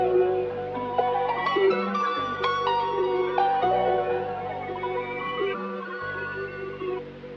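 An original music sample plays before being chopped in FL Studio, a dense layered track with sustained chords, a melodic line and a low bass that drops out twice, loud and continuous with no voices.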